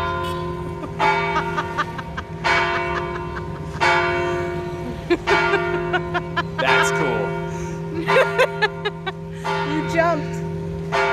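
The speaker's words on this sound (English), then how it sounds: "Those were beautiful bells. Those bells have been ringing since 1737 when this was completed." Historic church bells at Baclayon Church in Bohol, Philippines, dating from 1737, ring in loud, resonant repeated strikes with long ringing decay, while people talk and laugh briefly between peals.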